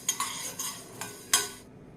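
Sago pearls are dry-roasted in a pan, heard as light scraping and rattling strokes of a spoon against the metal, about six close taps, before everything falls silent.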